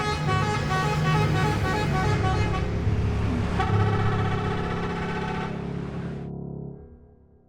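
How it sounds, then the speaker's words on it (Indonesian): A bus on a road with car horns honking over steady engine and traffic noise, loud and close throughout, fading out near the end. "Hingga nih gak lama bis itu belok masuk ke jalur peristirahatan."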